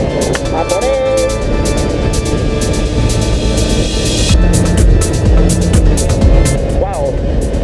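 A Yamaha TZR 50cc two-stroke motorcycle screams at high revs on the road, a loud, dense buzzing drone with wind roar, the pitch climbing and dipping slightly as it keeps speed.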